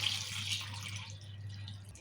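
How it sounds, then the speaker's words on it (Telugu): Water pours faintly over tomatoes in a large bowl as they are washed, a soft continuous splashing trickle over a low steady hum. "నీళ్ళు పోసి కడుతున్నాం మంచిగా."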